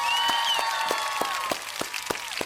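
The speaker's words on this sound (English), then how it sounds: "Guys, just give her a round of applause" A small group claps for a guest on a podcast, with distinct claps spaced fairly evenly under a sustained, voice-like tone.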